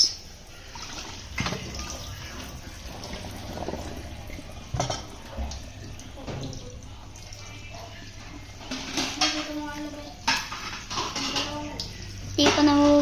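Tap water runs and splashes while plates are washed in a home kitchen, with clatter and a few louder bursts, under casual conversation between friends.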